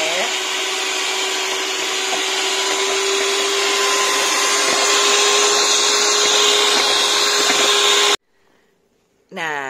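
An electric mixer whips egg whites until stiff with a loud, steady motorized whine that runs for about eight seconds, then cuts off abruptly, followed by a brief rising whir near the end.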